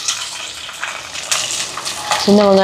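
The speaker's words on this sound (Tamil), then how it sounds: "பாருங்கள் வெங்காயமெல்லாம் நல்லா வதங்கி வருது" Shallots, curry leaves, garlic and green chilies sautéing in hot oil give a steady, close sizzle throughout, with a brief louder burst and a tonal hum near the end.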